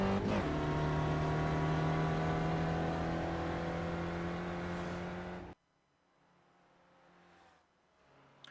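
A race car engine in the iRacing sim drones steadily on a lap of Canadian Tire Motorsport Park, loud and sustained, then cuts abruptly to a faint low hum before a brief rise at the end.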